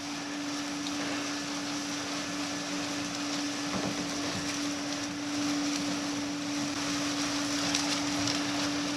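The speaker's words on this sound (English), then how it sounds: "Boy, this machine's a new one, and you can tell it. Blowing a lot better than normal." A new cellulose insulation blowing machine runs steadily, a continuous motor hum with a strong steady tone under a rushing airy roar, constant and close with no speech.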